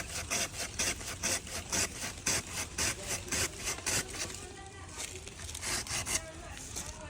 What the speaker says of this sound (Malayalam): ഫസ്റ്റ് തന്നെ നാവൽ കട്ട് ചെയ്യാൻ പോകട്ടാ.